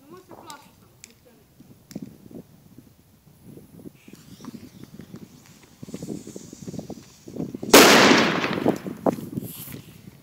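A zolja firecracker explodes with a single sharp, loud blast near the end, preceded by quieter scuffling and voices talking nearby outdoors.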